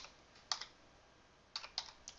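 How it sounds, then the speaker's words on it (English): Computer keys clack in two short bursts of typing, soft and close with a pause between, alone in a quiet room. "So now if I start typing,"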